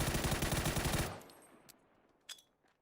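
Rapid automatic gunfire in PUBG, a dense, loud burst of shots lasting about a second, then a quiet pause broken by a few faint, distant single shots.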